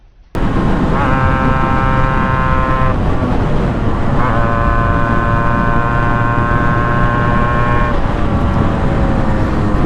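A Yamaha RXZ motorcycle engine starting and running close by, loud and steady, with a buzzy tonal whine that rises and falls in pitch as the throttle is blipped.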